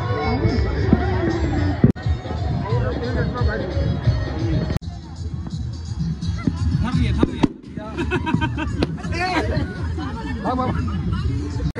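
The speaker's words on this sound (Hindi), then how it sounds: "बड़ा बड़ा पटाखा भी छोड़ देंगे" Firecrackers burst in the distance with sharp pops and crackles amid a noisy crowd of chattering voices outdoors during Chhath Puja celebrations.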